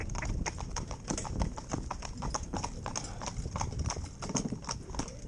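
A pair of Gypsy Cob horses trots in harness, their hooves clip-clopping in a quick, steady, close rhythm that continues throughout, with faint background noise.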